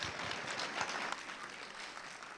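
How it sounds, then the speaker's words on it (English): Audience applause at the Dancing with the Docs 2020 evening event, a steady wash of many hands clapping at moderate volume, holding evenly throughout. "Big round of applause"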